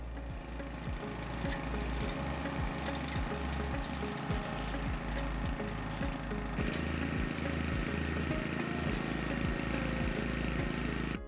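A Cobra WV580SPL wheeled garden vacuum's petrol engine runs steadily, a close, even mechanical drone with a rapid pulsing chug that holds for the whole stretch.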